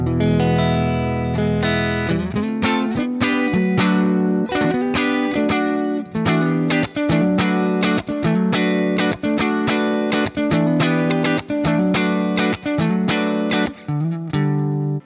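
An electric guitar plays a driven, choppy riff of rhythmic chords and stabs through an AmpliTube 5 JH Gold amp simulation, loud and continuous with brief gaps between phrases.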